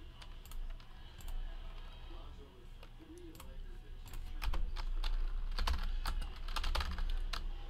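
Fingers type rapid, crisp clicks on a computer keyboard while logging sports trading card hits, with steady background hum and keystrokes growing busier toward the end.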